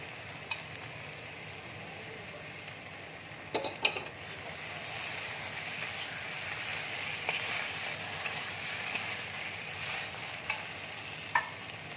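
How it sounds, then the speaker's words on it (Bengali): Grated coconut is stirred into ridge gourd frying in a pan, giving a steady soft sizzle under a few sharp clinks of a spatula against the metal, with no voices. "এবার আমি নারকেল কোড়াটা দিয়ে দিচ্ছি।"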